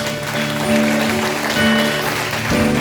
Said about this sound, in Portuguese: Você pode aplaudir o Senhor pela sua palavra?